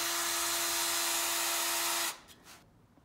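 A power drill spins a wooden chair dowel spindle with a steady, loud whine for about two seconds, then cuts off abruptly, followed by a couple of faint knocks.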